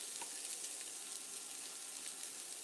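Chopped whole onion sautéing in a pan for a rice, spinach and beef soup: a faint, steady, even sizzle with no voices.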